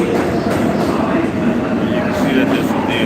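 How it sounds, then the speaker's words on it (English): A New York City express subway train running at speed: a loud, steady rumble and rattle of the cars with faint high squeals, while a person talks over it. "You can see that this is the express train."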